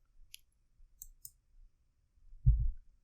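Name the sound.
computer mouse click on Import button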